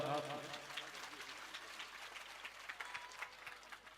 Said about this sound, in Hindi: एक बार जोरदार ताली बजाएं आप।